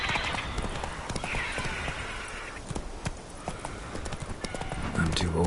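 Roach, the horse in a fantasy role-playing game, gallops with hooves pounding in quick, busy clip-clop, loud and near, while a voice speaks over the hoofbeats.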